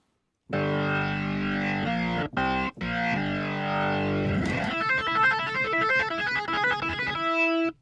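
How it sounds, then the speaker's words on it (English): Gritty, overdriven Hammond organ chords through a Marshall cabinet, played via the IK Multimedia B3X plugin, dry with no reverb, sustained loudly, briefly cutting out twice, then a fast, warbling run of repeated notes before settling on a held tone. "a Hammond organ being fed through a Marshall cabinet"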